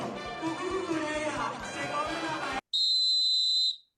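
After a few seconds of busy, noisy background, a short pause gives way to a single loud, shrill whistle blast held for about a second before cutting off.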